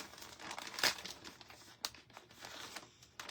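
A baby wipe is handled up close, producing faint, irregular crinkling and rustling bursts with a few sharper crackles and no voice.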